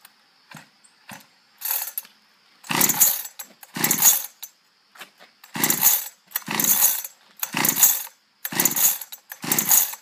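A cheap Chinese clone chainsaw is pull-started with the throttle closed: about nine ratcheting rips of the starter cord come one after another at a steady pace, close and loud, with no engine catching and no talk.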